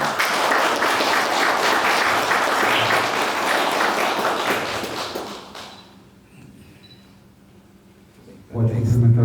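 A church congregation applauds at a theological seminary's certificate ceremony, a dense, loud wash of clapping that fades after about six seconds before a burst of voices and a sharp rise returns at the end.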